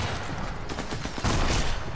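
Gunfire in the video game Sniper Elite 4, heard as a dense, noisy wash of shots and impacts that swells near the end, loud and close with no speech.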